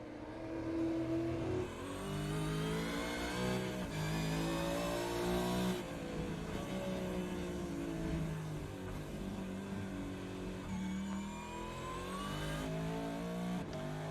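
Supercars race cars screaming around Mount Panorama Circuit, engines revving hard and shifting through gears, a continuous loud mechanical howl with rising and falling pitch sweeps and no talk over it.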